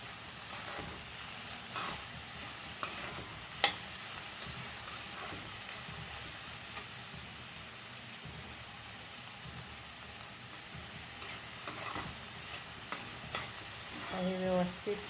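Hakka noodles are stir-fried on a high flame in a pan, giving a soft, continuous sizzle broken by scraping stirs and a few clanks, fairly faint throughout.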